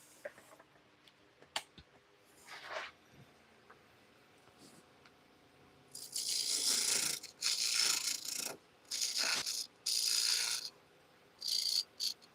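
A woodturning detailer shaves the edges of a spinning turned piece on a lathe with a new mandrel, producing several loud, harsh scraping bursts in quick succession after a quieter stretch of light taps.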